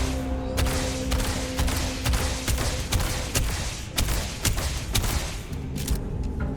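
Gunfire in the space game Starfield sounds as rapid, repeated sharp shots in an uneven burst over a continuous humming in-game background.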